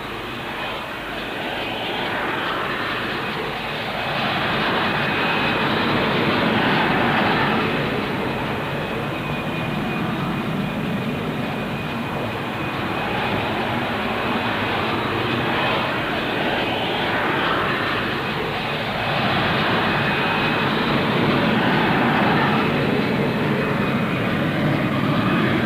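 A Hawker VTOL fighter jet with a Pegasus engine and rotatable thrust nozzles roars at the Farnborough air show, a loud, sustained jet rumble with a steady whine that swells and eases across the demonstration.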